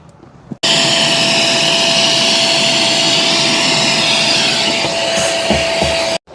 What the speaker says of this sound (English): So we're going to get a vacuum, clean this out, and then we'll continue with the replacement.